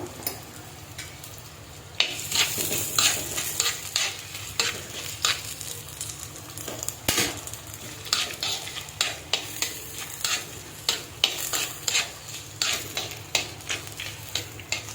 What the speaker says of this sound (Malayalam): കുറച്ച് ഉപ്പ് കൂടി ചേർത്ത് നന്നായി വഴറ്റിയെടുക്കാം